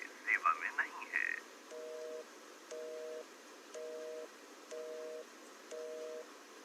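Five evenly spaced electronic telephone tones ring on a landline line, each about half a second long with short gaps between them, following a brief burst of higher beeping at the start. An out-of-service number sits at the other end.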